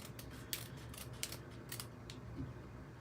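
Scissors snip through threads on the back of stitched fabric, several sharp clicks spaced irregularly over a low background hum, close and fairly quiet.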